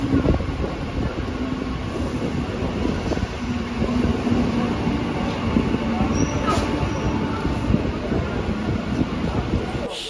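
A suburban train running from Sealdah toward Baruipur Junction, heard from inside as a continuous rumbling roar with rattling carriage noise and wind buffeting, steady throughout.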